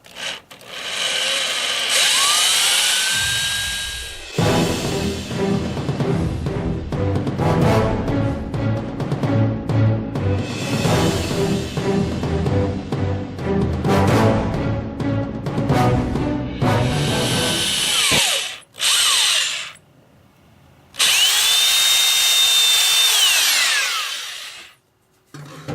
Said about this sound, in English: Got my 3/8 drill bit